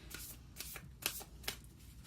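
Moonology oracle cards being shuffled by hand: soft, close riffling bursts in quick succession, quiet and without any talk.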